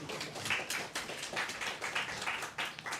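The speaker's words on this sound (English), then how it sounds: "So let's clap for them." An audience at a computer systems workshop claps together in a dense, steady patter of many hands, moderately loud and sustained without a break.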